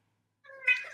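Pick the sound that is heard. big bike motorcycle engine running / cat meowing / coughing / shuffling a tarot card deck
cat meowing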